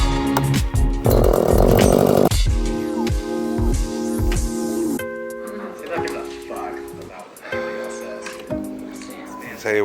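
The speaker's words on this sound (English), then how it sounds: "half hour of power is all I can handle on that chainsaw" A chainsaw runs on a farm with a steady, buzzing engine drone, loud and close, while people talk over it and a dog may bark in the background.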